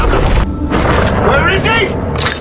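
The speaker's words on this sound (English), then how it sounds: "when she throws it, a grenade explodes, killing her" A grenade blast from a war film booms heavily and keeps rumbling for a couple of seconds, loud and close, mixed with a narrator's voice.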